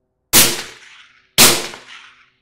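Two loud, sharp suppressed 5.56 rifle shots from a Sig suppressor fitted on a Sig mount, about a second apart, each a sudden crack followed by a short fading tail, with no talk.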